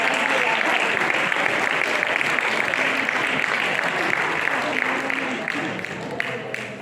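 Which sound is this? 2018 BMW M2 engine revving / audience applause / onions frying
audience applause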